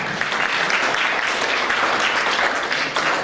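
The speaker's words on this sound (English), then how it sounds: "A big round of applause for every single team that participated today." Audience applause at an inter-college commerce competition, a dense, steady wash of clapping from a large crowd that holds at an even, fairly loud level throughout with no talk over it.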